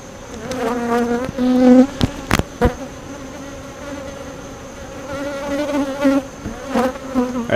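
Honeybees from a recently caught swarm buzz close by in overlapping tones, individual bees droning past loud and near, with a few sharp knocks and clicks breaking through the hum.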